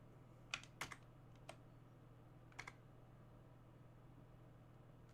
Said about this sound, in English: Say, does my keyboard have a print screen button?